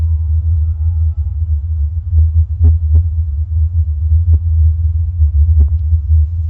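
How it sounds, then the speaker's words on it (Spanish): Low, steady droning rumble of the mysterious Taos hum, a continuous deep throb with faint intermittent clicks over it, no voices present. "Ahí tenemos el sonido de Taos de nuevo."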